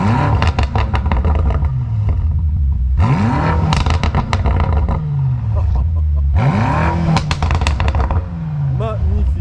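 A BMW M5 F90 with a 4.4-litre twin-turbo V8 accelerates hard in repeated loud pulls, each rising through the gears with a deep roar, then dropping back between bursts, while people talk over the engine noise from inside the car.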